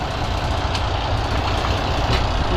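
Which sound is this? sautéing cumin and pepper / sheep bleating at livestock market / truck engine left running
truck engine left running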